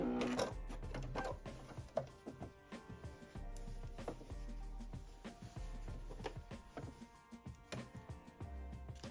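A sewing machine stitching across a pocket on a jumpsuit, a close, quiet mechanical whir with rapid clicking needle strokes in short bursts and brief pauses.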